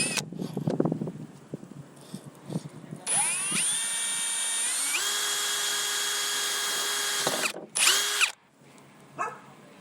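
A power drill bores a 5/16-inch hole through a pre-drilled pilot hole while a Rhino Rack Backbone is fitted to a JL Wrangler. It runs as a loud, steady whine for about five seconds and rises in pitch as it speeds up. Short bursts and clatter come before and after.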